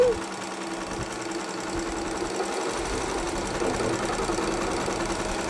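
A computerized embroidery machine stitches a deer design with gold thread, giving a steady, fast mechanical whir and rapid needle chatter that runs evenly throughout at moderate level.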